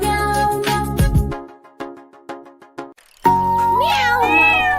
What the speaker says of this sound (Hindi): म्याऊं म्याऊं बिल्ली करती